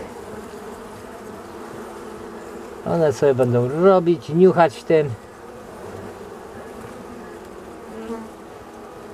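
Honey bees hum in an opened hive, a steady close buzzing drone that continues throughout while someone speaks in Polish for a few seconds in the middle.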